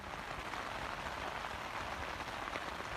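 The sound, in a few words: rain falling during a mountain hike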